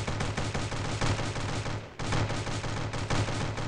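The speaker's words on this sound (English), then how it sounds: "this LMG, heavy machine gun is quite good" Heavy machine gun (LMG) from the Heavyfire package in Stick Warfare Blood Strike firing in rapid sustained bursts, a dense continuous rattle of shots with one brief break near the middle before the stream resumes.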